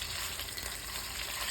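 Food sizzles in its own oil in a pan, giving a steady, even crackling hiss that runs without pause, close by and fairly quiet.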